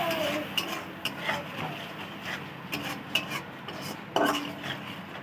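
Metal spoon stirring pointed gourd and prawns in a pan, a steady soft scraping and rubbing with intermittent clinks of utensil against the pan, close and moderately quiet.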